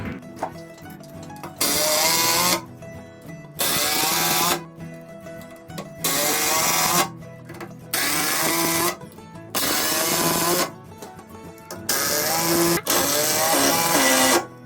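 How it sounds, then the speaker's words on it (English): A power drill drives screws into 23/32-inch plywood while building a second floor inside a Tuff Shed, whirring in six or seven loud bursts of a second or two each, with quieter gaps between them. "And I'm going to screw these screws in."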